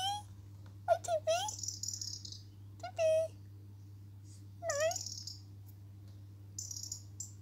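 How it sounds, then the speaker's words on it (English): A cat visiting a home gives several short, quiet meows in scattered bursts over about seven seconds, with faint high chirping and a steady low hum in the background. "Toby, a cat that just likes to come and see us."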